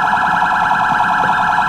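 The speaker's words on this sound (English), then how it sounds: "all I can hear is this car alarm" A car alarm in the video game Sleeping Dogs blares loud and close, a continuous pulsing electronic wail with no pauses and no talk.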